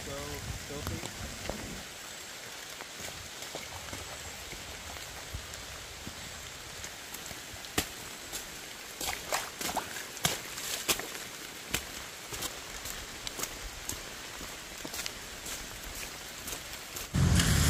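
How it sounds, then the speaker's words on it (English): Steady rain falls on a forest trail along the Appalachian Trail in Green Mountain National Forest, a dense hiss with scattered drop impacts, and a louder burst of noise right at the end. "It's raining"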